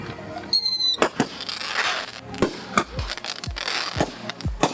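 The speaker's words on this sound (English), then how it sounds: "Okay, now we go for the city fireworks." City fireworks popping and bursting in a quick irregular series of loud sharp bangs, some with crackling tails, a few near and others farther off, with no talk.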